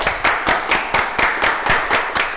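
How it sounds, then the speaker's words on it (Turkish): Rhythmic hand clapping from a small group at a masterclass show opening, about four claps per second in an even, close beat, with no talking over it. "Alkışlayalım."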